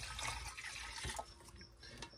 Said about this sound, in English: we're just going to add a little bit of distilled water